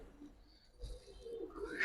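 Giribaz racer pigeons coo softly in low, throaty murmurs near at hand, with a faint brighter call rising at the end and no voices.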